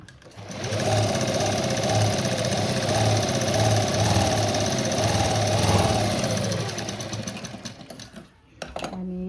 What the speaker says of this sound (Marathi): आणि आता हे आपण इथं टिप मारून घेऊ.